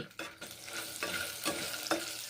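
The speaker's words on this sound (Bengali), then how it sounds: "এখন ভেজে নিচ্ছি বড়ি" Bori lentil dumplings frying in hot oil for a stalk chorchori, a steady close sizzle broken by stirring scrapes and a few sharper bursts.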